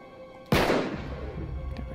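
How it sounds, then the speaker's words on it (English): A single loud gunshot fired at a lock in Uncharted 3, a sharp close crack that rings out and decays over a second, with quiet ambience before and after. "Back up, I'll shoot the lock."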